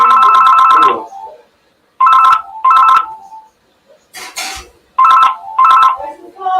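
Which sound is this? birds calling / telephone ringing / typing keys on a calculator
telephone ringing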